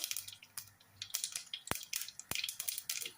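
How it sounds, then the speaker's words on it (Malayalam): Mustard seeds pop and crackle in hot oil, scattered sharp snaps of varying loudness over a faint sizzle, close by. "കടുക് നന്നായിട്ട് പൊട്ടി തുടങ്ങിയിട്ടുണ്ട്."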